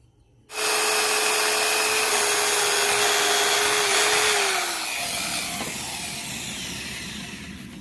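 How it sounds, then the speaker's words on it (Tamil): A power drill with a 3 mm bit whines steadily at high speed, then its pitch sags as the bit bites into an iron pipe and grinds on, loud and close. "இந்த இடத்துல ஒரு 3 mm ட்ரில் பிட்டை வச்சு நம்ம ட்ரில் பண்ணி எடுத்துக்கலாம்."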